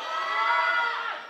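A concert crowd at a school performance cheers and screams in one sustained, fairly loud wash of voices with whoops, heard from within the audience.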